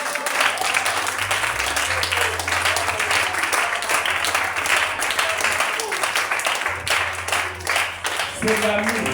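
A church congregation claps and cheers to praise the Lord, a dense sustained wash of applause and shouts over a low organ or keyboard drone, with voices calling out within the crowd.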